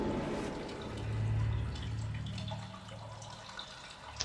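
Water flowing and draining away inside a cave in the game Sisyphus Reborn, a soft, continuous trickling and gurgling wash with faint drips, heard quietly for several seconds.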